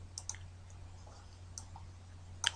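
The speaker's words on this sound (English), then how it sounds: "Now I'm going to click on the link button" A computer mouse button clicks a few times, sharp and close, with small isolated ticks spread over a quiet room hum.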